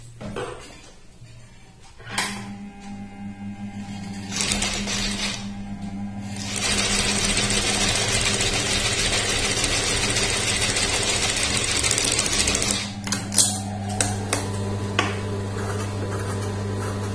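A sewing machine stitches neck canvas and fabric onto a churidar neckline, running in a steady continuous whir for several seconds after a few clicks and handling noises, then stopping with more clatter.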